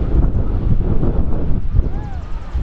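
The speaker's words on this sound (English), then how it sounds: "Everything's super windy. We'd love to take you down to the beach, but oh my god, you probably hear right now. Super windy." Strong wind gusting on the Oregon coast near Florence, roaring steadily against the microphone for the whole stretch, with a faint tonal whistle near the end.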